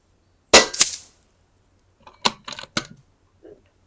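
A Kalibrgun Cricket 2 air rifle fires one sharp, close crack, followed about two seconds later by a scatter of faint clicks and light metallic handling noises.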